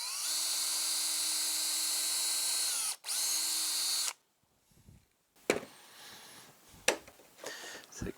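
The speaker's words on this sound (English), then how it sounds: "drill a pilot hole as deep as we can" A power drill bores a pilot hole during a chicken coop extension build, whining steadily for about four seconds with one brief pause, then stopping; quieter handling clatter and knocks follow.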